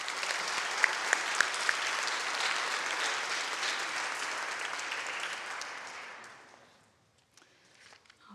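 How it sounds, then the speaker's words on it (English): An audience at an athletic awards presentation claps in steady, full applause for about six seconds, with a few sharp whistles or cheers early on, before it fades into quiet room noise. "let's give them a round of applause."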